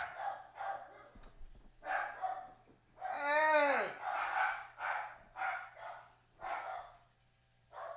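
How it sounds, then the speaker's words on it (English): Dogs barking in bursts nearby, roughly a dozen sharp barks in an irregular rhythm with one longer howling yelp in the middle, against a low steady hum. "Oh my God, these dogs."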